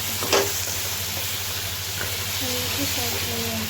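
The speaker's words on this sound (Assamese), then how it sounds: "মেৰিনেটটো দিছিলোঁ অকণমান ফ্ৰাই কৰি লৈ পেলাই বনাই আছোঁ" Marinade frying in a pan, a steady soft sizzle and hiss running throughout with a few faint clinks, with no talking over it.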